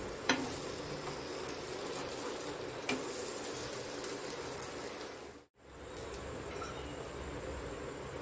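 Capsicum rings frying in oil in a pan, a steady, even sizzle that runs throughout with a couple of faint ticks and one brief dropout near the end.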